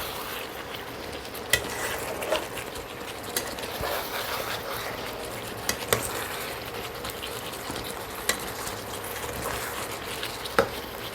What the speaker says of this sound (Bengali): এবার আমি চিকেনের মধ্যে কিছুটা বিরিয়ানির মশলা মিশিয়ে দেবো